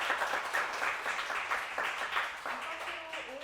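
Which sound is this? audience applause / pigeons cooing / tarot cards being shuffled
audience applause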